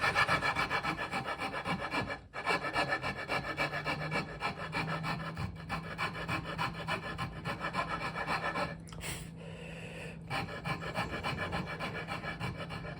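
A hand file rasps steadily along the back leg of a wooden Philly chair, close and continuous strokes with a brief pause near the middle and a quieter stretch toward the end.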